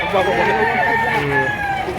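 A rooster crows once at close range at a chicken market in Lipa, a long drawn call with voices and background chatter around it.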